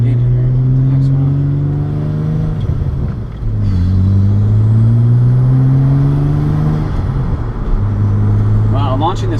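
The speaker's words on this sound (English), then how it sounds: "Wow, launching this car is" An Audi B5 S4 launches and accelerates hard in repeated bursts, engine pitch climbing through each gear before dropping and rising again, loud and close.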